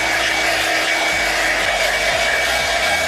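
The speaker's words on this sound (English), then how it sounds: "We're going with the blow dryer, and I like it because it has the cones" A hair blow dryer with cone attachments running on its low setting, a loud, steady motor whir with airy rushing noise, continuous and close with no talking.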